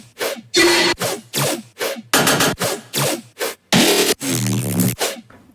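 Brostep filler bass synth supporting the main basses in a heavy dubstep production, heard alone as a run of short, loud, gritty bursts with abrupt cuts and a final longer growling note.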